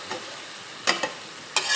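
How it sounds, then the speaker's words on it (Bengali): Potatoes and spices for a Bengali bhola fish curry are stirred in a pan with the lid lifted, giving a few faint scrapes and soft sizzling clatters in quiet surroundings. "দেখো আবারও একটু ঢাকনাটা তুলে দিয়ে নেড়ে চেড়ে নিলাম।"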